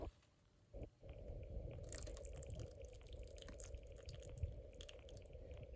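Water trickles and drips faintly out of a chilli plant's pot as it drains, a soft, close, continuous wet patter after a brief quiet start.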